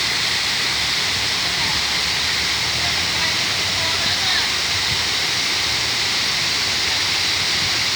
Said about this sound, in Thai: ให้ฟังเสียงน้ำตกค่ะสวยมากเลย